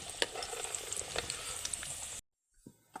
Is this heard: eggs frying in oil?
yes